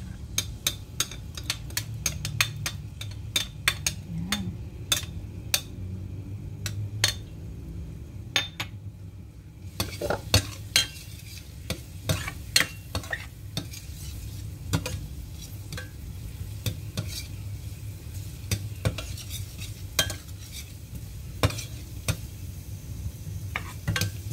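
Chopped garlic sautés in a pan, a steady low sizzle with frequent sharp ticks and clinks from stirring, close and alone, with no talking.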